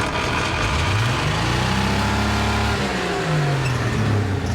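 A 1951 Chevrolet farm truck engine with a sticking throttle revs up and down in steady surges, loud and close, its pitch rising and falling for several seconds with no talk over it.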